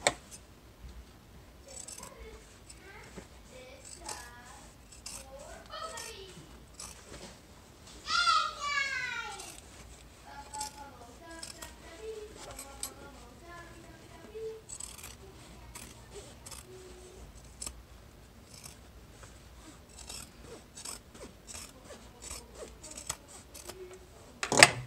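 Scissors snipping and trimming a fabric seam on a sewing project for a bag, a string of short crisp cuts spread through the clip, close up and moderately loud, with light background noise.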